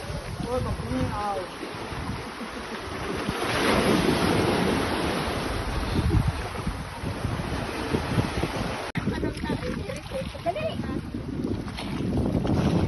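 Ocean waves wash and rumble along an island shore, with heavy wind buffeting the microphone and voices faintly heard beneath the constant surf.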